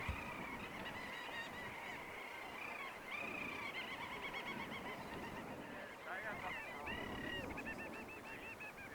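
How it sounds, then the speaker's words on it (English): A large flock of little auks swirls over a rocky Arctic sea stack, their shrill, chattering calls overlapping into a relentless, dense din that stays steady throughout. "These little birds were extremely difficult to photograph, let alone video, but they made a relentless noise"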